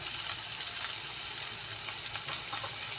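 Chopped capsicum sizzling in a hot pan while macaroni is being cooked, a steady bright frying hiss at low level with a few small pops and no talking.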